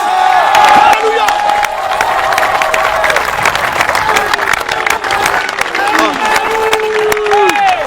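A rally crowd cheers and acclaims loudly and steadily, with whoops, shouts and scattered clapping running throughout, voices rising and falling in a dense continuous roar.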